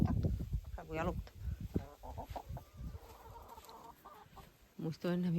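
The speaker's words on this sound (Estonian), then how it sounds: "Kanad nii lahedalt jooksevad." Farmyard chickens on an old farm cluck and squawk busily in autumn, several birds close by in a noisy mix of short calls and rougher cackles, with a person talking over them.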